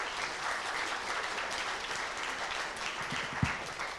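Audience applause at a church service welcoming a guest speaker, steady and moderately distant clapping filling the whole stretch, with a single sharper clap standing out near the end.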